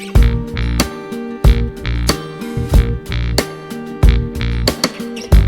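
Drum kit recorded with a two-mic setup, playing with the full mix including bass: punchy kick and snare hits in a steady groove over sustained bass tones, loud and upfront with no talking.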